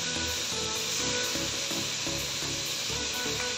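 Chicken pieces for a Karachi-style karahi sear in a hot pan, a steady broadband hiss and crackle running throughout with faint tonal hum underneath, close and continuous without any talking.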